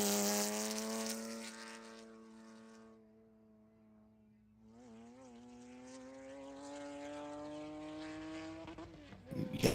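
A distant Porsche Cup race car engine at Buttonwillow whines past, its pitch falling as it slows into a bend and then climbing steadily as it powers away, growing louder.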